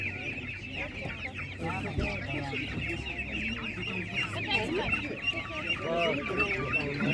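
Chickens and other poultry cluck and squawk continuously at a market, close by and fairly loud, with people talking in the busy background.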